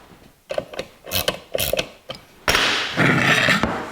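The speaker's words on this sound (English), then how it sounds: "And we can tighten the nut down." Nut being tightened onto a fan and spacer on a 1982 Jeep CJ7, a few close ratchet strokes and metallic clicks, then a louder sustained rasping mechanical burst at the end.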